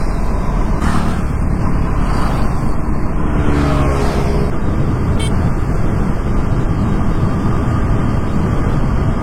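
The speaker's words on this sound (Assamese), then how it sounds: "গাড়ীও ৰেলি ওলাইছে, চাই লওক।" During an Independence Day rally, cars and motorbikes stream past in a continuous loud engine roar with a rushing wind-like wash and no gaps or pauses.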